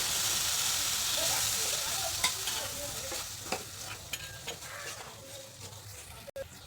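A sugar and milk mixture is stirred in a pan, giving a steady soft sizzle and hiss with a few sharp scraping knocks of the spoon against the pan, close and without talk.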